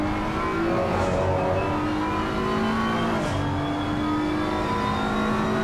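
A BMW race car's onboard engine howls steadily through the final sector at Paul Ricard, loud and sustained with smooth pitch rises and dips at gear changes.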